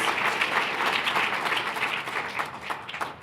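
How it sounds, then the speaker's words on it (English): Steady, dense audience applause fills a room at a gadget competition event, a full crowd clapping loudly and continuously with no voices over it. "And one more test round of applause for Robin Raskin"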